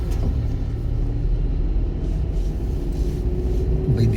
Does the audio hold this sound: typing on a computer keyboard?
no